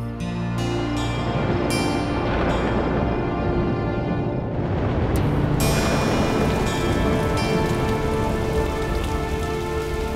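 Heavy rain during a storm, a dense, loud and steady hiss of drops pelting surfaces with brief sharper bursts, continuous throughout with no voices.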